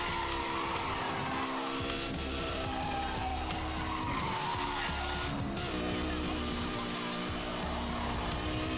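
A black Lamborghini races in Need for Speed Hot Pursuit Remastered, its engine roaring loud and steady throughout, with repeated tire squeals and skidding on the corners.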